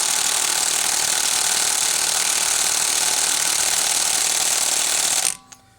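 Milwaukee M18 Fuel impact wrench on setting 4 hammering at a car's brake caliper bolt, a loud, steady, rapid rattling that runs for about five seconds before cutting off abruptly.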